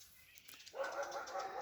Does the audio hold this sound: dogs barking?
yes